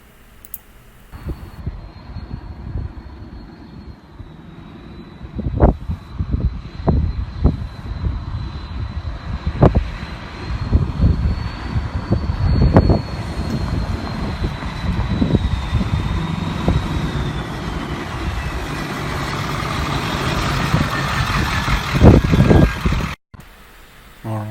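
A 7.3 Powerstroke diesel Bronco drives down a street, its engine giving a loud, sustained jet-like roar with a high whine running through it and sharp bursts of rumble throughout.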